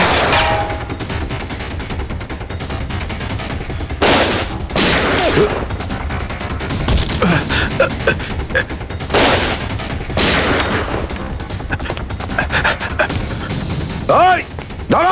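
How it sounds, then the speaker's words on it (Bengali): Gunshots in a Bengali-dubbed CID television crime drama set in a forest at night: loud, close bursts of rapid fire break out several times over a busy mix of shouting voices and tense background score. "সিআইডি অফিসারকে গুলি করে দিলি?"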